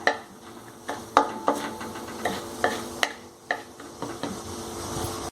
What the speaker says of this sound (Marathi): हळगुंड तळून घेतल्यामुळं लोणच्याला चव छान येते एकदम खमंग होत असं छान फुलू द्यायचं त्याला